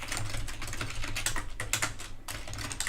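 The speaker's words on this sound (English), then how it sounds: "because that's what I'm typing out here" Fast, irregular clatter of keys as code is typed on a computer keyboard, close and clear, with short pauses between bursts and no talking over it.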